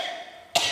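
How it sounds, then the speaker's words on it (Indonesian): A single short, sharp cough right up close, bursting out abruptly after a moment of quiet humming noise. "Batuknya keras."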